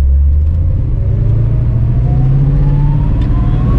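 A 1964 Dodge 330 with a 426 Hemi engine accelerates on the road, giving a steady loud low rumble with a gradually rising engine tone inside the car.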